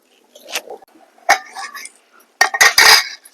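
A metal lid goes onto a cooking pot of dry fish curry in a home kitchen, giving a few sharp clinks and scrapes, faint at first and then a louder clattering set near the end, close by and alone.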